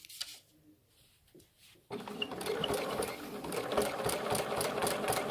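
A sewing machine starts after a quiet pause and runs steadily while stitching a fabric cover for another sewing machine, its rapid mechanical chatter close and continuous through the rest of the clip.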